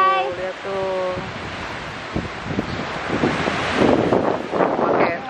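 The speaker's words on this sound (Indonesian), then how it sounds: "Angin sama ombak, maklum ya." Strong wind buffets the microphone as big ocean waves roar and crash at the beach, the surf swelling louder toward the end, with a voice talking over it at the start.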